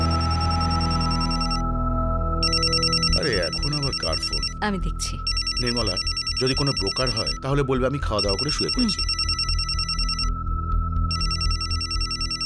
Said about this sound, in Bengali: আরে এখন আবার কার ফোন?